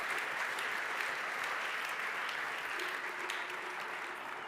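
Steady, dense applause from a large audience at an award ceremony for sustainability and energy transition prizes, a continuous wash of many hands clapping at even loudness throughout, with no voices above it.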